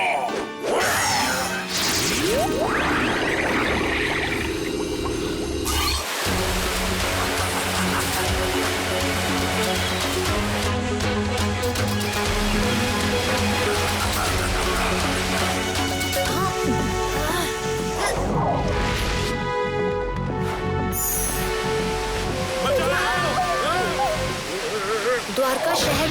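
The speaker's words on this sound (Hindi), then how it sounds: "द्वारका शहर में पानी भर रहा है।" Cartoon storm effect of floodwater pouring into the city of Dwarka: a dense, continuous wash of roaring water with crashes and smashes, layered with dramatic music throughout, loud and unbroken.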